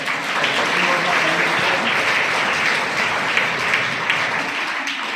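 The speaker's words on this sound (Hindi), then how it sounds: "इनके लिए तालियां बजा के" A crowd claps steadily in applause at a girls' school event at Kasturba Gandhi Vidyalaya in Jalmana, honoring students after their performance; dense, continuous clapping fills the whole stretch without pause.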